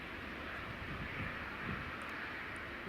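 Ryanair airliner coming in to land at Edinburgh Airport, heard as a steady, broad engine roar with wind-like rush, moderately distant and continuous throughout, with no talk.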